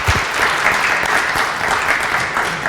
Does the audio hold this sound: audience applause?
yes